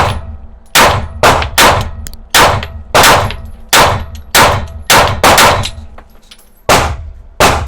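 A standard SIG P365 pistol fires 9mm factory-reloaded ammunition in a rapid string of about ten loud, sharp, close reports with brief ringing tails, irregularly spaced.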